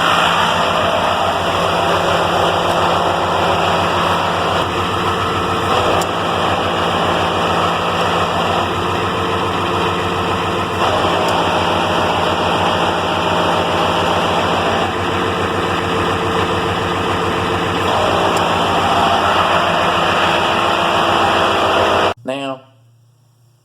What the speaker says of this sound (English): Here's a short and sweet on gear rollover noise. Sounds like a grinding transmission when you're sitting there in neutral at idle.